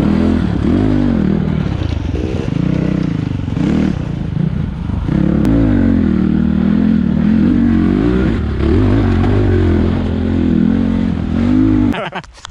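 An enduro motorcycle engine runs loud and close on a race track at Silichi, holding a steady rough drone with slight swells in revs and a brief clatter near the end.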